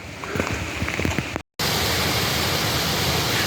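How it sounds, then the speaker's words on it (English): Waterfalls below a trail near Horton Spring in Arizona's Tonto National Forest: a steady, dense rush of falling water fills the clip, broken by a brief gap, with a few lighter splashes before it. "It's always fun seeing more waterfalls like these down below through the trees."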